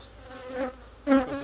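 Honey bees buzz close by during a hive split into a small nuc box, a steady droning hum that swells into a louder burst near the end.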